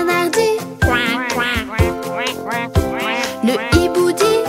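A voice imitates a duck's quack in a French children's animal song, with sung notes and music carrying on around it.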